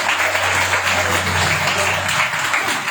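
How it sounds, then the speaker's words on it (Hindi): Audience at a live business event applauding, a dense, sustained wash of many hands clapping that stays loud and even for the whole stretch. "एक बार जोरदार तालियां कि हम लोग भारतीय कंपनी के साथ काम कर रहे हैं।"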